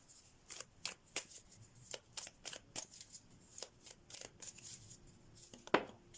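Deck of oracle cards being shuffled, a series of crisp riffling and snapping bursts in an irregular rhythm, close and fairly quiet, with no talking.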